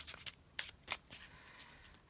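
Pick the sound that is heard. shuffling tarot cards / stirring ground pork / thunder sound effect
shuffling tarot cards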